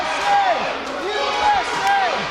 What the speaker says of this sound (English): Man, the crowd is full on into this.